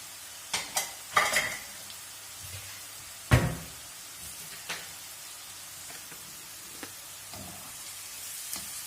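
A low sizzle of onion and carrot frying in a pan runs under scattered clinks and scrapes of a utensil stirring, with a few louder knocks.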